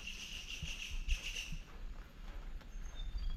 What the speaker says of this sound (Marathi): हांगसर पक्षी आड्डातात वयर